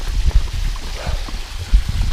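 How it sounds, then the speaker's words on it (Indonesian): Rushing water from a small waterfall along a hiking trail toward Bukit Bao Daya, a steady broadband wash with low gurgling surges, close and continuous. "Ada air terjun mini"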